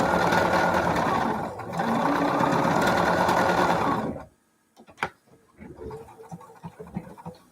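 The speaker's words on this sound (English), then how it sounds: "I'm going to sew dark on light and light on dark." Sewing machine stitching dark and light quilt patches for a scrap quilt, running loudly and steadily for about four seconds, then stopping, followed by quieter handling and fabric rustling.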